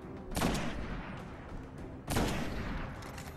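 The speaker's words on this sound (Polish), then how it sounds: "Trzy strzały i po nim" Gunfire in the PS4 shooter Destiny: two loud, sharp bursts of shots about two seconds apart, each trailing off over a steady game soundscape, with no one talking.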